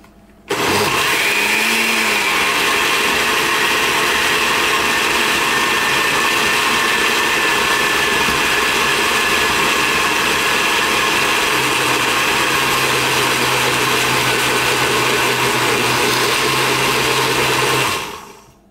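A kitchen blender roars at a constant high whir, pureeing onions for peri peri sauce, starting abruptly and running loud and steady for about seventeen seconds before cutting off.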